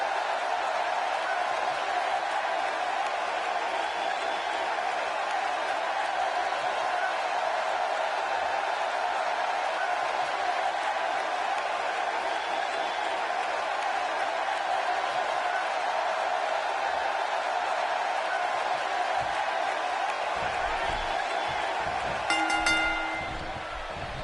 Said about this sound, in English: The Raw crowd here tonight is definitely fired up for this one.